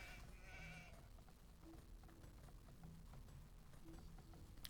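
Sheep bleat a few times in a farming video game, short mid-pitched calls that come and go over a steady background of soft patter and ticking.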